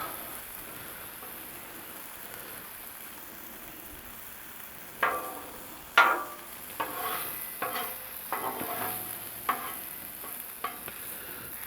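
Shrimp hit a hot Blackstone griddle, starting with a faint hiss and then breaking into a series of sharp crackling sizzles and spatters in the second half.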